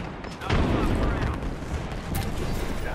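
A frag grenade explosion in the Apex Legends video game, a loud broadband boom that swells in at once and rolls on as a dense, sustained roar, with gunfire-like crackle and a second burst layered through the mix.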